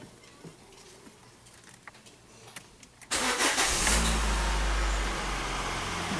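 Quiet room, then a 2011 Citroën C4 1.6 16V with 68,000 km cranks and fires at once, settling into a loud, steady close-up engine run; the car has a trembling clutch pedal and an engine noise fault.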